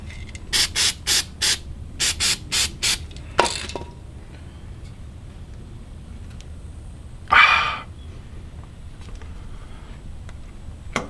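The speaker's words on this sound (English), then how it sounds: "I'm gonna see if I can put some silicone spray on this bushing here to make it go in a bit easier." Silicone spray applied to a vehicle suspension bushing: a rapid series of short, sharp hissing spray bursts, followed by two longer hisses spaced apart against a quiet workshop background.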